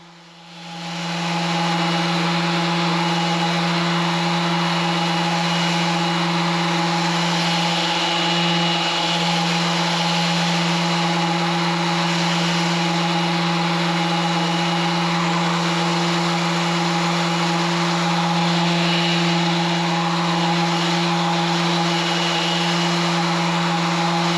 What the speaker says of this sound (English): my drum sander is set up at 80 grit